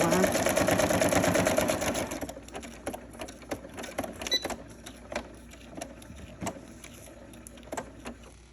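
A sewing machine stitching a zigzag stitch, with a loud, fast whirring run for about two seconds, then quieter scattered clicks and taps as the work is moved, and a person talking throughout.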